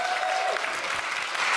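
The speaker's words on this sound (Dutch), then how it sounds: "Geef hem een warm applaus" Warm applause from a debate audience greets a Piratenpartij candidate for the Amsterdam city council, a steady, dense clapping that fills the short stretch evenly from start to finish.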